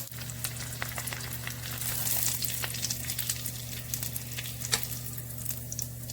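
Breaded chicken schnitzel fries in oil in a pot on medium-high heat, a steady bubbling sizzle with scattered crackles and pops and a low electric hum beneath, with no one talking.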